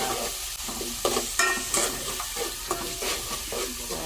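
Garlic, onion and tomato cook in a pan for sinigang sa miso, a bright sizzle broken by repeated spatula stirs and scrapes, close and fairly loud.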